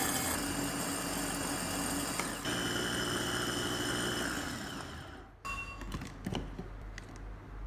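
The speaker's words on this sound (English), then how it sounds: "Close the lid and blend until they break down into small flakes." A blender roars steadily as it grinds dried shrimp shells into flakes, its motor whine constant and loud, then cuts off, leaving rattling and clattering.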